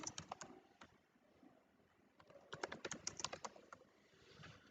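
Keys clatter on a computer keyboard, quiet and close, in irregular bursts of taps with short pauses between them, as someone types a name into a program.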